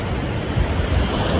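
Sea waves washing onto the shore at Al Rams in Ras Al Khaimah, UAE, a steady broadband rush mixed with wind buffeting the microphone, fairly loud and continuous, with no voices.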